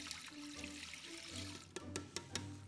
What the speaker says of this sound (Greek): παίρνω μια κατσαρολίτσα και βάζω το νερό για το σιρόπι μου